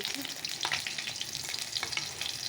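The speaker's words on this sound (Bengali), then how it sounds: "চলো ঝিঙেটা একটু ভেজে নিই দিয়ে দিয়েছি" Ridge gourd frying in a pan, a steady crackling sizzle with scattered pops and spatters, close and moderately loud throughout with no voices.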